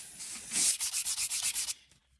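A 7-stripe wooden guitar neck is hand sanded to a radius, with about eight quick, even rasping strokes close to the microphone before it goes quiet.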